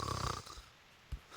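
An apple snores in the Reverse 1999 video game, giving a breathy, rushing snore up close that fades quickly into near-silence, followed by two soft low thumps.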